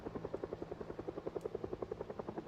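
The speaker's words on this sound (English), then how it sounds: "that helicopter does not sound like it's moving away" Helicopter in the Project Zomboid video game, a steady rhythmic rotor chop of fast even thumps with a low engine drone, holding at a constant level throughout with no talk.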